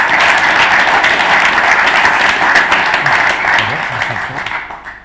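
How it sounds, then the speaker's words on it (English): An audience applauds a presentation on arable farming robotics and automation, a dense sustained round of clapping that holds steady for several seconds, then thins and fades out at the end. "Can you give a big round of applause to Jamie for his presentation?"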